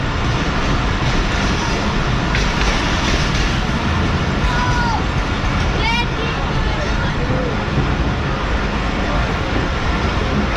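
Karachi Express train rolling through Digg Road junction under a 50 km/h caution, a continuous loud rush of wheels and carriage rumble with faint squeals, crowd babble mixed in.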